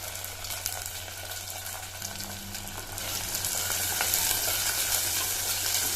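Garlic and small onions sauté in a pan for a green field bean curry, a continuous frying sizzle that grows louder midway, with a faint low hum beneath.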